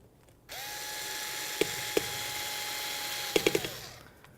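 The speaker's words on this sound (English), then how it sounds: "And then reinstall the 8 back panel screws." A power driver whirs steadily for a few seconds while reinstalling the back panel screws on a Nomad Now battery unit, with a few sharp clicks as the screw seats before the motor winds down.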